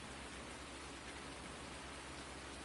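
Rain pours in a farming video game, a steady broadband hiss of heavy rainfall, faint and unbroken with no voices.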